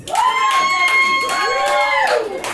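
A rowdy comedy-club crowd at Lake George cheers and whoops loudly, with high sustained shouts rising and falling over scattered clapping for about two and a half seconds.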